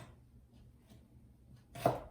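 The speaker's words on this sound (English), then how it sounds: "cut a chunk off of my onion" A single sharp knife chop through an onion onto a cutting board lands near the end after a quiet stretch, close and brief.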